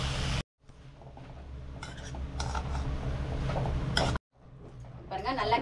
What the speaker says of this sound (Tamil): பாருங்க, நல்லா கிளறியாச்சு.